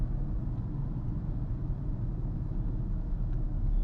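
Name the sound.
car engine sound while driving in city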